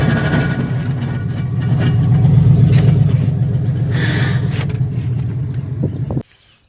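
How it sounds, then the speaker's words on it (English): A truck put into drive with a failing rear end, its driveshaft turning while the gears do not engage, grinding and rumbling steadily and loudly for about six seconds before cutting off abruptly. "It's just my rear end grinding."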